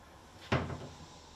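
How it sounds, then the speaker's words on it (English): A wooden cupboard door on a handmade Arts and Crafts style sideboard swings shut with a single close, sharp knock that decays quickly in a quiet room. "Well, look at this, we've got a cupboard door."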